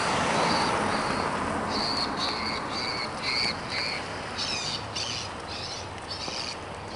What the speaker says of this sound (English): I'll turn you back on when the bird starts squawking.